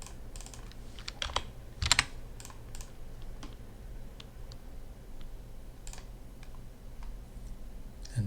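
Irregular keyboard typing at a computer during a coding session, with scattered soft key clicks across several seconds and a louder cluster of clacks early on. The sound is close and steady, with no speech.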